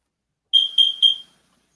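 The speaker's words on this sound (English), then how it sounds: "What the fuck was that beep noise" Three short, loud electronic beeps in quick succession, like a smoke alarm chirp, sounding alone with silence before and after.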